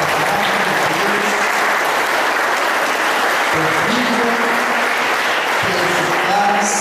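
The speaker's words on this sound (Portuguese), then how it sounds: "Uma salva de palmas para a" A round of applause fills a church service, dense, loud clapping from a large congregation that carries on steadily throughout with a few voices mixed in.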